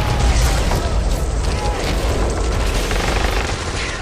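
In the Men of War video game, truck explosions and gunfire make a loud, dense rumble of booms and crackling shots that runs without a break.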